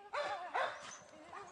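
Pit bulls barking at a dog kennel, two loud yelping barks close by followed by a fainter bark, with a busy background of other dogs.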